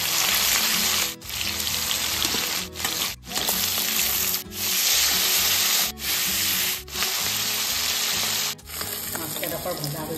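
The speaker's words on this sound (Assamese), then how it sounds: "মাছকেইকণ আগতে ভাজি লওঁ" Fish frying in hot oil in a wok (kadai), a steady dense crackling sizzle running throughout with brief dips where the pieces are moved or stirred.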